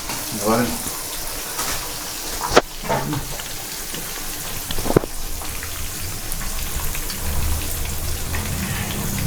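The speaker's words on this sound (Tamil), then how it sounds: "வெளியே பார்த்தீங்கன்னா மழை அடித்து ஊற்றிட்டு இருக்கு" Heavy rain pours outside during fish cooking, giving a steady, dense broadband hiss throughout with a couple of sharp knocks and faint voice-like sounds at times.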